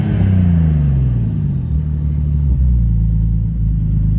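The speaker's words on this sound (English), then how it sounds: "I'll give it a few more revs here." Twin-turbo Nissan 370Z Roadster engine revving loudly up close, a deep rumble climbing and falling through a couple of blips with no talk over it.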